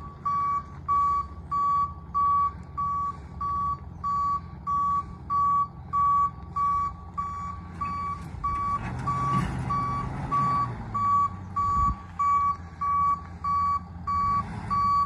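A four-wheel drive rollback tow truck reverses at a Model T extrication, its reversing alarm beeping in a steady, evenly spaced pulse over a low diesel engine rumble that swells midway as the truck works.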